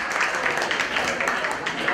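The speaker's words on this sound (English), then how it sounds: "a big round of applause to Tilak." Indoor audience applause at a business conference plenary session, steady dense clapping from a crowd that holds at an even level for about two seconds with no talk over it.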